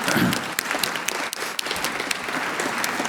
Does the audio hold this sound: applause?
yes